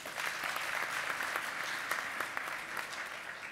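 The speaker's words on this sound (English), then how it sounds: "let's give her a round of applause anyway" Audience applause at a high-level debate on free movement of Africans, a dense burst of clapping from a seated crowd, moderately loud and steady throughout with scattered sharper claps standing out.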